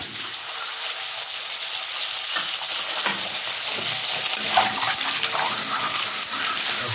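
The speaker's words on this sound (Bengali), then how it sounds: "প্রথমে ডিমটা ভেজে নেব" An egg frying in a pan of hot oil gives a steady, bright sizzle with crackling pops scattered throughout, close and continuous with no talk.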